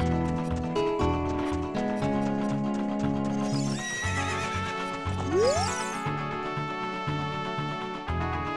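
A horse in the Zelda: Ocarina of Time video game whinnies loudly and clip-clops at a gallop over bright, melodic game music, the neigh rising sharply partway through.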